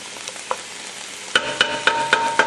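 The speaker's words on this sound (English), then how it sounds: "we'll go ahead and get this all kind of stir-fried together" Baby carrots and onions stir-fry in a hot pan: a steady sizzle with a series of sharp, evenly spaced scrapes and clatters of a utensil turning the vegetables, close and fairly loud.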